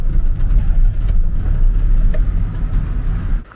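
A car cruising along a road, heard from inside as a steady low engine drone and road rumble, loud and continuous, fading slightly near the end.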